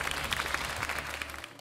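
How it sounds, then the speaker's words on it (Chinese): An audience at a bookstore talk claps warmly, a dense steady patter of many hands over a short stretch, fading out at the end. "请大家再给一个热烈的掌声"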